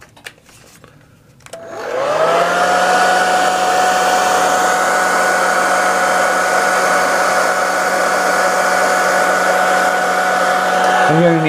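A hair dryer on its low setting, used to dry airbrushed acrylic paint, clicks on after a couple of quiet seconds. It then blows with a loud, steady whooshing whine up close until it cuts off at the end.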